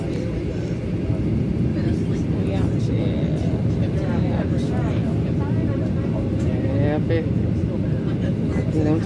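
Airplane cabin noise during takeoff, a loud, steady engine roar and rumble throughout, with people talking over it.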